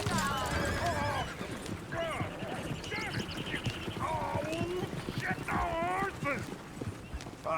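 Horses neigh and whinny several times in the video game Red Dead Redemption 2, fairly close, with hooves clip-clopping and people talking throughout.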